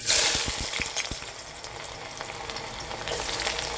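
Chopped onions dropped into hot oil and frying, a sharp burst of sizzle and a few clacks at the start settling into a steady close crackle and hiss, with no voices.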